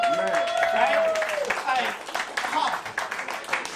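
Comedy club audience clapping and cheering after the comic asks about bad bosses, a brief burst of applause with voices mixed in that fades quickly.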